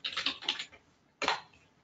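Typing on a computer keyboard into a search box: a quick burst of several close key clicks, a short pause, then another brief cluster of taps, with no voices.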